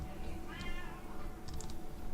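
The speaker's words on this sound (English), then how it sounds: "if you hear a cat meowing in the background" A cat meows faintly in the background, a couple of soft drawn-out calls over a steady low hum.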